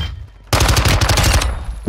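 Rapid burst of automatic gunfire in an online shooter match on Al Mazrah, loud and close, starting abruptly after a quiet moment and rattling steadily to the end.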